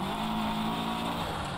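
A rally car in Dirt Rally 2.0 screams at full throttle, its engine holding a steady high-revving drone, loud and close, with no break in the tone.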